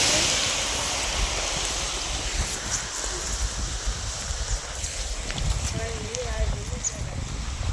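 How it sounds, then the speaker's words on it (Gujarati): Fast, strongly flowing water rushes in a steady broad roar, close and continuous, with faint voices in the background. "કેવડું જોરમાં જઈ રહી પાણી"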